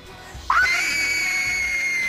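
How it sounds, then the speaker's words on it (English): A woman lets out a loud, sustained blood-curdling scream that rises sharply and holds for nearly two seconds, clear and close with no talk over it. "Can I hear your scream?"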